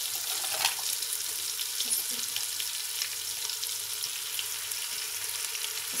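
Kofta curry masala with yogurt fries in a pan with a continuous close sizzle and light stirring scrapes at a steady, moderately loud level. No one speaks.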